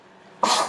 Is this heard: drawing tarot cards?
no